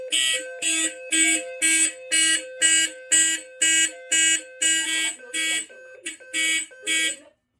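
A Notifier NFS2-640 fire alarm system sounding during a building test: loud, close horn blasts in a regular pulsing pattern, about a dozen evenly spaced bursts that falter slightly near the end before cutting off.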